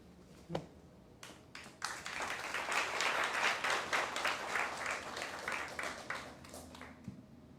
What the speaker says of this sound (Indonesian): kasih tepuk tangan buat Jordan